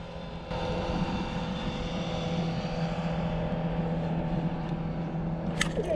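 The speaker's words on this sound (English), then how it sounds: "So what I'm going to do is kick in that trolling motor and do a slow troll into the wind" A boat trolling motor kicks on with a sudden onset and then hums steadily on the water, a droning motor sound continuing without talk.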